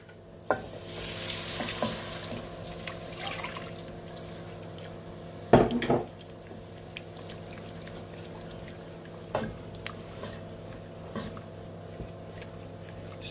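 Crushed garlic and beef stock stirred in a sizzling pot for beef bourguignon: a continuous frying hiss with scraping spoon strokes and a few sharp knocks against the pot, close by and without speech.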